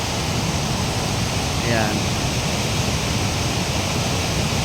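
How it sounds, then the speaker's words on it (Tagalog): Strong, loud rushing water pours over Bustos Dam in Bulacan, Philippines, a dense unbroken roar throughout, with a brief spoken word over it. "Grabe, malakas ang tubig ngayon mga ka-idol, oh. Grabe yung lakas ng tubig."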